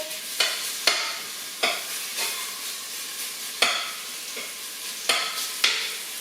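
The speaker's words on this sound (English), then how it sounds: "there goes the sizzle" Butter sizzles and fries in a soup pot for homemade vegetable soup, a steady close hiss broken by sharp utensil taps and scrapes every second or so, with no talking.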